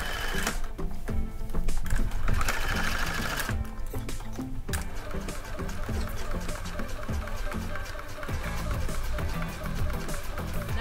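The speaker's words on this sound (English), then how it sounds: "I'm going to sew all the way around" A home sewing machine stitches a patch pocket onto a men's shirt, running steadily at close range with rapid rhythmic needle clatter and a hum throughout, pausing briefly before resuming.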